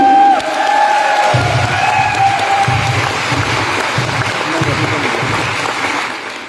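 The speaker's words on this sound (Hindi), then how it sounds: "मैं चाहता हूं एक बार 9 नवंबर के लिए जोरदार तालियां हो जाए" A seated crowd at a 200 Diamond celebration speech breaks into loud applause with cheers and whoops, sustained clapping filling the hall after a brief voice at the start.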